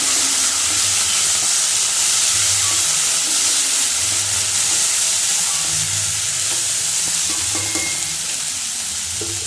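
Raw banana and green gram stirred in a hot pan make a loud, continuous sizzle and hiss close by, with soft rhythmic scraping from the stirring underneath and no voices.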